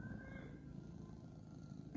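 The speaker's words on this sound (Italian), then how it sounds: "Fa le fusa per ora." A cat purrs steadily and close by in a domestic setting, a continuous low rumbling hum that stays even throughout with no other sounds.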